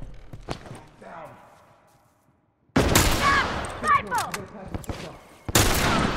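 Rifle gunfire in The Last of Us rings out as loud, sharp cracks after a quiet stretch, mixed with shouted voices and scuffling.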